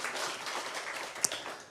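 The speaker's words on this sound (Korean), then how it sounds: "우리 하나님께 영광의 박수 올려드리겠습니다." A church congregation at a Sunday service claps together in a soft, brief patter of applause, fairly distant and quiet, with a single sharper clap standing out near the end.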